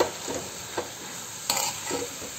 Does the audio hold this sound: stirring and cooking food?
yes